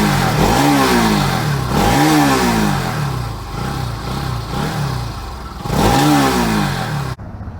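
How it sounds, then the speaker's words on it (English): A fuel-injected BS4 Bajaj Pulsar NS200 motorcycle revs repeatedly, its exhaust note climbing in pitch and dropping back in rising sweeps, loud and close, cutting off abruptly at the end. "listen to the exhaust note of the BS4 NS200"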